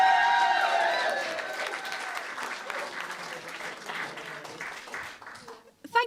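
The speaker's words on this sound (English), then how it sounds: "keep that applause going" Audience applauding at a comedy competition final, loud sustained clapping that fades gradually, with a voice speaking near the end.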